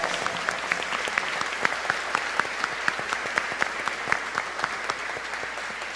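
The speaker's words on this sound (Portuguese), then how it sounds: "Vamos dar também uma salva de palmas." An audience at a posthumous memorial ceremony for a Catholic bishop breaks into sustained applause, a dense, even patter of many hands that holds steady for several seconds with no voices over it.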